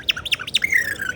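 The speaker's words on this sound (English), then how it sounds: "you can hear this bird in the background" A bird calls on a busy Istanbul street in a quick run of bright, rising chirps, then one long thin whistle, clear and fairly close above a low hum of city noise.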